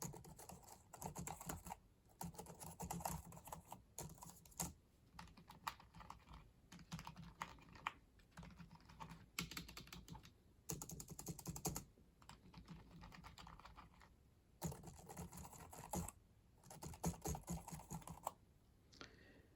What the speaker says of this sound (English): now let's test McCallie keyboard right next to the Walmart brand keyboard